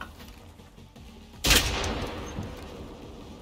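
Enemy gunfire in the shooter game Generation Zero, a low ambient rumble suddenly broken by a loud, close burst of shots that decays into a rolling roar.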